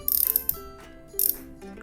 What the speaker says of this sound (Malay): dari segi bunyi drag korang dengar sendiri lah